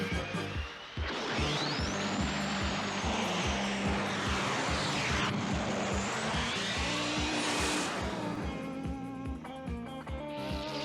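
Roaring engines and whooshing jet sweeps as an anime squadron of fighter planes launches one after another in Space Battleship Yamato II, dramatic and stylized, loud and continuous.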